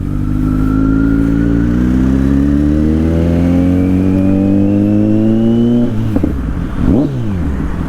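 A 2022 Kawasaki Z900 motorcycle engine at high speed, loud and close, with a steady rising roar as it pulls through the gear, then a brief gear change and the engine climbing again.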